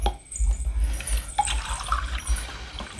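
Drinking water is poured into a container during a home meal, a short trickling, splashing flow with soft gurgles, heard close and alone.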